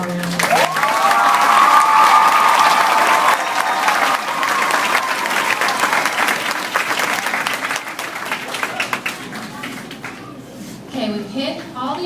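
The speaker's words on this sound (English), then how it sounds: "Let's give these individuals one more round of applause." Sustained crowd applause for award-winning Pine Meadow Elementary students at a school ceremony, loud and steady for about ten seconds before fading, with a voice speaking near the end.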